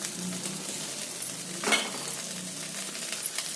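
Tamarind being stirred into a frying pan of hot oil, giving a steady soft sizzle with a brief scraping swell of the spoon partway through, close and alone.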